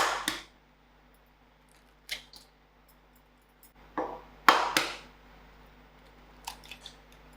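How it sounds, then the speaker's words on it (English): Three eggs cracked for a quiche filling: a few sharp, separate cracks and taps spaced out over several seconds, close and crisp against a quiet kitchen background. "crack up 3 eggs"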